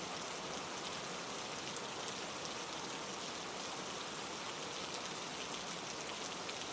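Steady rain falls with a dense, even hiss of drops that never changes in level, heard alone with no voices.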